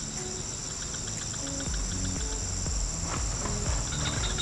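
Crickets used as fishing bait at a wide swamp chirp in a high, steady, continuous trill, with soft low thumps and rustling underneath.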